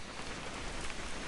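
Rain falling steadily in the video game What Remains of Edith Finch, a dense, even patter on surfaces with no voices, heard for a brief moment.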